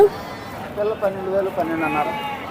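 Several goats bleat close by in overlapping wavering calls at the Pileru sheep and goat market, with people talking underneath and a busy crowd murmur behind.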